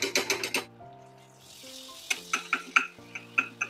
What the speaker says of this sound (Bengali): এবারে রসুন বাটা দিয়ে দেবো একটু